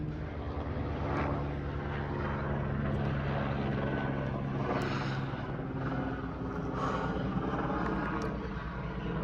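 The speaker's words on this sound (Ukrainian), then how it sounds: "Якийсь вертольотик летить." A helicopter flying over the mountains on the way up Petros in the Ukrainian Carpathians, a steady droning rotor and engine hum that stays at moderate distance for several seconds, no talking.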